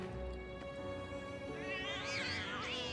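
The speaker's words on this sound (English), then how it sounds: "Oh, Wedge is playing with a cat." A cat meows in Final Fantasy VII Remake, a drawn-out, wavering meow rising near the end over a steady droning game music bed, fairly quiet overall.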